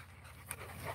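A large dog pants in short, quick breaths nearby outdoors, close and fairly clear over a low background rumble.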